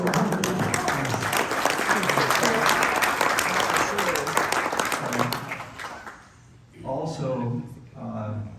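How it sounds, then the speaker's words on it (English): Audience applause for a couple married 65 years, heard at a 50th anniversary celebration: sustained loud clapping from a crowd that fades after about six seconds, then talk resumes. "Let's give them a round of applause."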